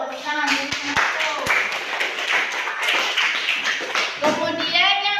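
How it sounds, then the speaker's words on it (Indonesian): A group of children claps in a quick, uneven burst of hand claps in a classroom, close by, with voices chattering underneath throughout. "Tepuk tangan untuk Ratu."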